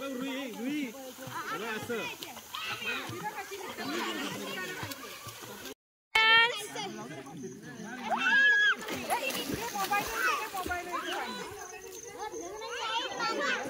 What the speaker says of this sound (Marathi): आमचा दिव्यांश पण शिकतोय पोहायला.